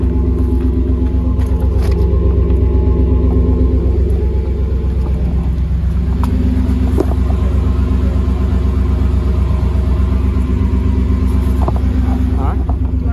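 A 2015 Ford F150 with a 5.0 V8 and a Black Widow Venom 250 exhaust idles with a loud, steady, close-up rumble that runs throughout, while voices talk underneath.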